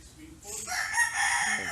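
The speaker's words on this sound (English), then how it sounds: "See, there's a lot of chickens." A fighting rooster in a Philippine city neighborhood crows once, a loud drawn-out call that starts after a short quiet lead-in and carries to the end.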